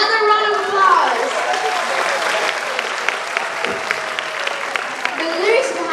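Graduation ceremony audience applauds warmly for a performer, a dense sustained round of clapping that swells slightly at the start and end, with a few voices cheering underneath.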